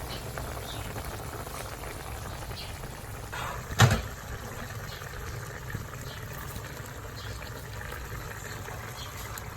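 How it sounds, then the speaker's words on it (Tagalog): Pork broth simmers in a pot for pork tofu with kangkong, a faint steady bubbling hiss with one brief clatter partway through. "Ayan po, kumukulo na."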